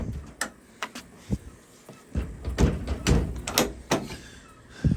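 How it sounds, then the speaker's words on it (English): The door of an old, abandoned muscle car that has not run in decades, stuck shut while someone tries it: scattered metallic clicks of the handle and dull thunks and rattles against the frame, close by and irregular. "let's see if the door opens"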